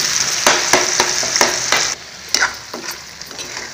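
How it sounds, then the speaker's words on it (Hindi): A paste of onion, garlic, ginger, chili and tomato fries in a pan for a green pea nimona, a loud, close sizzle broken by regular scraping strokes of a spoon, then quieter after a pause. "हमारा मसाला भून रहा है"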